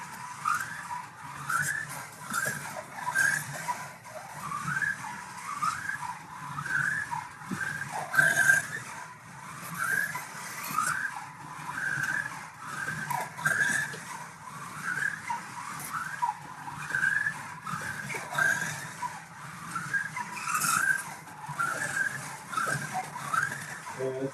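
Small Alpha slot cars lap a track, their motors whining in repeated rising squeals as the tires dig in and grip through the corners, a steady looping rhythm of buzzing passes with faint background noise.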